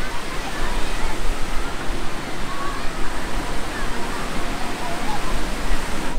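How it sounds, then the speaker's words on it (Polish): Waves washing continuously onto a public beach in Beirut, a dense, steady roar of surf filling the whole stretch at close range. "Z publicznej plaży w Bejrucie."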